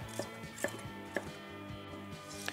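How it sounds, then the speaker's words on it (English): A knife slices bell peppers into strips on a cutting board while making Haitian pikliz, a few crisp separate chops spaced roughly half a second apart and recorded up close. "I like to just cut these in strips"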